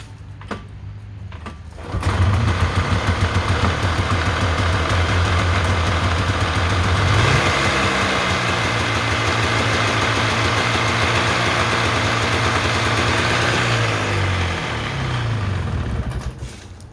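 A 1993 Polaris Trail Boss 350 ATV engine catches after a couple of seconds, then runs at a steady, loud idle with a continuous low, even rumble for the rest of the clip.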